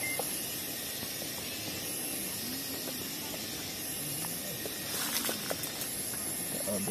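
Spicy dish sizzles steadily in a pan as it is stirred: a close, constant hiss with small scrapes and clicks, a little busier near the end, with no one talking.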